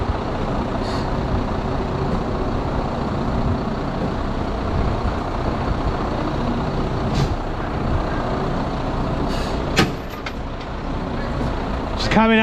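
A 26-ton lorry being winched out of a ditch during a UK heavy recovery, its engine rumbling steadily with air brakes hissing sharply near the end while people talk.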